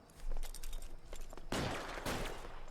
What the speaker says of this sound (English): he shot at us